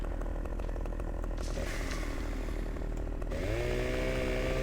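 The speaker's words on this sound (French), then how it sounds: "Je vais couper un arbre à la tronçonneuse." A chainsaw in the game Farming Simulator 2015 roars loudly and continuously, its engine pitch rising and shifting as it cuts down a tree.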